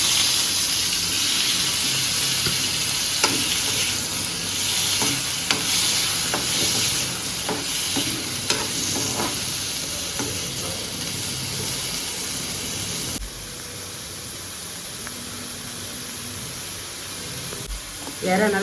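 Prawns frying in butter with a little oil in a pan, a steady, loud sizzle that runs throughout, with occasional stirring clicks and a slight drop in intensity partway through.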